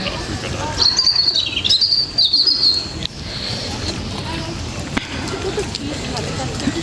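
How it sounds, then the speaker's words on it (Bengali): Small birds chirp and tweet in a Japanese-style garden in Holland Park, London, a bright trill near the start over soft background noise, with people talking around it. "পাখি কি সুন্দর টুইট টুইট করতেছে"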